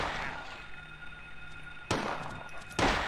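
Gunshots fired in the Silent Hill video game, two sharp broadband blasts about a second apart over a steady hissing static background.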